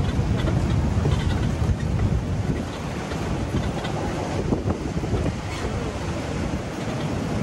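Strong wind and waves at a beach resort in Da Nang, steady blustery rumble with wind buffeting the microphone and surf washing underneath, continuous throughout.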